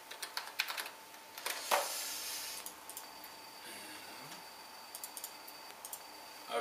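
Someone types a login on a computer keyboard beside a PC fitted with a Club 3D GeForce GTX 680, giving quick irregular key clicks in short bursts, close and fairly quiet, with no one speaking.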